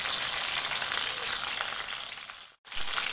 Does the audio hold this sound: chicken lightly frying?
yes